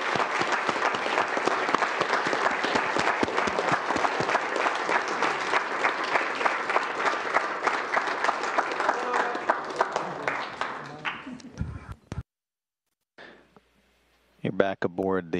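Sustained audience applause, a thick, continuous patter of many hands, runs strong for around eleven seconds, then thins and cuts to near silence before other sound resumes.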